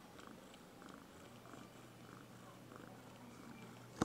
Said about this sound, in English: Very loud purr.